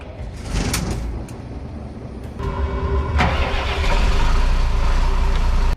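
A bus engine cranks after the ignition is switched on, catches, and settles into a steady, rising idle rumble close by, with a few clunks and clicks at the start.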